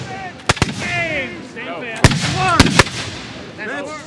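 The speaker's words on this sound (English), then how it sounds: "the enemy had fired upon us with a 6-pounder" Several sharp, loud bangs of 6-pounder cannon fire ring out in an irregular sequence, with voices heard throughout.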